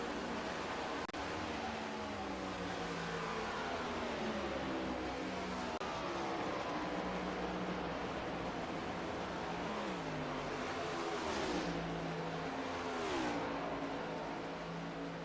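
A NASCAR race car engine roars in a video game, a continuous revving drone that rises and falls through shifts and throttle changes, loud and steady with no talk over it.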